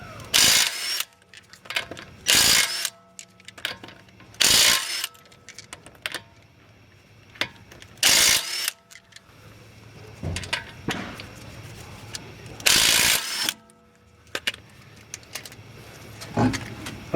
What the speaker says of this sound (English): the first thing I'm going to do is jack up the vehicle